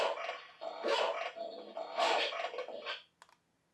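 A recorded dog-barking alarm plays from an Ozikam ACW-8MP IP camera with 15x zoom, a few loud, slightly tinny barks and growls in quick succession before cutting off.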